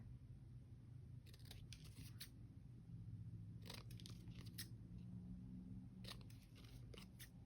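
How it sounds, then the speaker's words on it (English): Scissors snipping the corners off paper notebook pages, quiet crisp cuts in short clusters of two to four snips spread across several seconds, close up over low background hum. "all that's left to do is cut the corners away"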